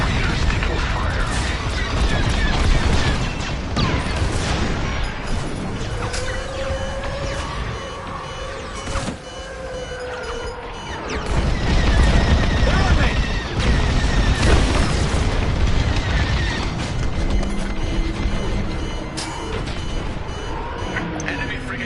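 An enemy frigate exploding in the Star Wars: Squadrons space combat game, heavy booms and rumbling blasts amid mechanical whirs and weapon fire, loud and dense throughout, with radio voices talking over the battle.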